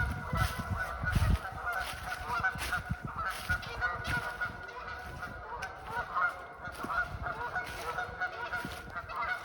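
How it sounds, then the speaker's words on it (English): A flock of geese honks continuously and noisily, overlapping calls rising and falling over a steady outdoor background at a winter campsite at dusk. "Those geese are upset about something."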